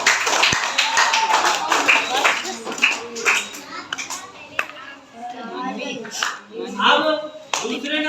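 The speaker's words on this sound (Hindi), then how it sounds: "इनके लिए तालियां।" A school audience claps for a departing contestant at a children's quiz show modeled on Kaun Banega Crorepati. The dense clapping fills the first half, then children's chatter takes over.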